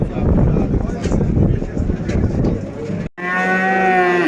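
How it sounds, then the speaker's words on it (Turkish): Cattle at a livestock market in Göksun, Kahramanmaraş, where heifers and cows are on sale, give a loud, drawn-out moo close by after a stretch of busy market noise and voices. "Burada bir tane inek var."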